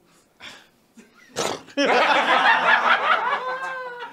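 A man imitates a horse whinny with his voice on a comedy talk show: a few short breathy bursts, then a loud, drawn-out quavering neigh that tapers off, close and alone.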